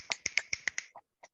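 Finger snaps from an online meetup audience serve as applause, with about six quick, crisp snaps close together, then a couple of softer, scattered ones before silence.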